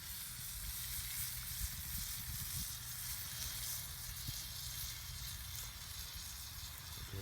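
Onion and tomatoes sizzle steadily in a cast iron pan for stewed chops, a soft, even hiss that stays constant throughout with no voices.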